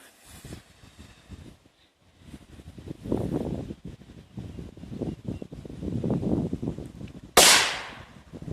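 A single sharp, loud bang from a reinforced firecracker bursts near the end after several seconds of rustling and wind noise outdoors.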